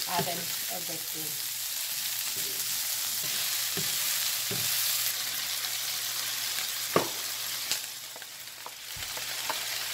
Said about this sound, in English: So now I'm adding my peppers in here, my sweet peppers.